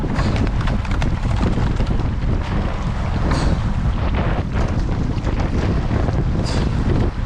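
A rowboat pushes into a headwind, with loud continuous wind buffeting the microphone and rough low rumble throughout, overlaid by irregular splashy knocks from the strokes and no talk.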